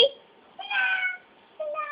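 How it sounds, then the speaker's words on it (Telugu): A cat among trees meows three times in quick succession, close and clear, with short quiet gaps between the calls. "హే చెట్ల మధ్యలో పిల్లి పిల్లి పిల్లి"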